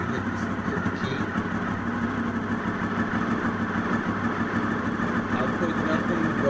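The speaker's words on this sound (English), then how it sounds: "And just like a Honda, this bike starts every time you hit the key." A fifth-generation Honda VFR 800Fi motorcycle engine idles steadily and close by, a continuous even rumble that holds for several seconds.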